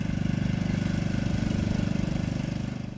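A tractor engine chugs at idle in a countryside radio drama, a steady close rhythmic putter that fades slightly toward the end, alone without voices.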